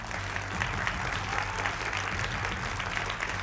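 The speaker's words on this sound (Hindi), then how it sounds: "तालियां तो बजा दीजिए आप लोग" Studio audience applauding during a Hindi political TV debate show, a steady, dense wash of clapping from a crowd held at an even level throughout, with no voices standing out.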